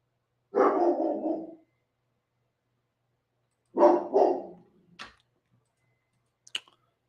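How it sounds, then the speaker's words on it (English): A dog named Bruno barks outside a door: two short bursts of muffled, indoor-heard barking separated by a pause, followed by a couple of faint clicks, with no voices present. "Daisy is off staring at Bruno barking outside of the door"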